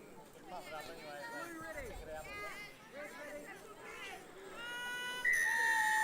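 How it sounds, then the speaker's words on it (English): A referee's sharp, sustained whistle starts a rugby match at a tournament ground, sounding near the end over crowd chatter and a commentator's voice. "Ref blows the whistle."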